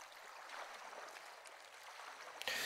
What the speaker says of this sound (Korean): 이런 정도의 물소리는, 이렇게 잠잘 때도 되게 좋아요.